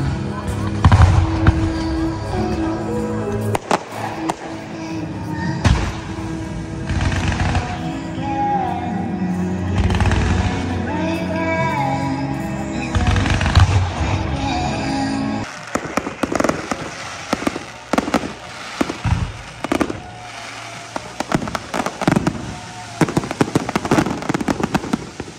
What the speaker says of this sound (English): these were the fireworks at the gig